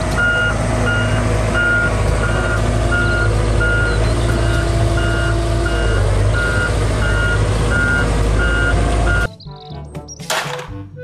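A toy wheel excavator truck gives off steady, regularly spaced reversing beeps over a loud motor drone, which then cuts out and leaves a few clicks and a short burst of noise.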